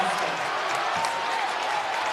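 Basketball crowd in a gym roars and applauds after a game-tying shot late in the fourth quarter, a dense steady wash of cheering with no distinct voice on top.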